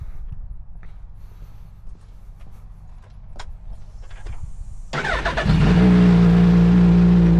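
A motorcycle fires up partway through and revs loudly and steadily near the microphone, after a stretch of quieter low rumble and clicks; it is checked during an inspection.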